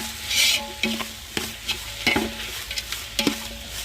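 Bitter gourd sautéing in moderate oil with onion, a soft sizzle under repeated spatula scrapes and taps against the pan, close and steady without speech.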